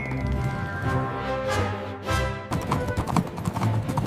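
Horse hooves clip-clop at a steady walking rhythm on a farm, close and clear, with a brief whinny-like tone and a busy backing layer that keeps the steps from standing fully alone.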